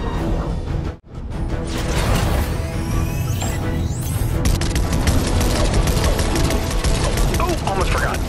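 Rapid bursts of Fortnite Battle Bus laser cannon fire and explosions crackle continuously over game effects, loud and dense with voices mixed in.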